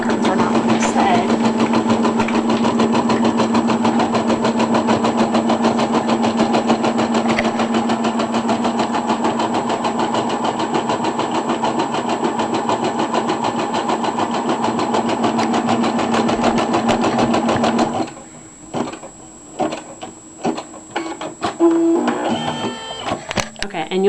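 A Brother SE 400 embroidery machine stitches on felt with a loud, fast, steady mechanical whirr and rattle for most of the time, then stops, leaving scattered clicks and handling noises.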